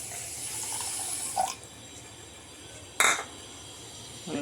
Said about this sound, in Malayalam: വെള്ളം ഒഴിച്ച് ഇനി ഇതിനെ നമുക്ക് ഒന്ന് മെൽട്ടാക്കിയെടുക്കാം.